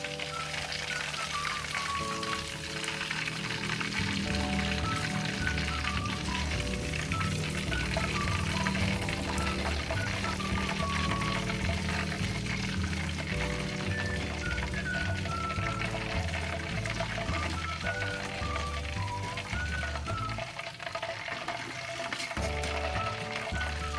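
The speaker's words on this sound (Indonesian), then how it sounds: "ini ayamnya sudah digoreng semua" Chicken pieces fry in a pan for Indonesian semur ayam, giving a steady, crackling sizzle that runs throughout beneath fairly loud background music.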